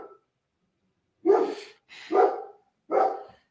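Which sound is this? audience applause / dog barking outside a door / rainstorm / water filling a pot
dog barking outside a door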